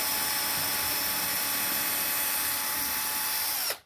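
A power drill drives a screw into plasterboard with no stud or board behind it, giving a steady, loud, continuous whine that holds for several seconds and then cuts off sharply.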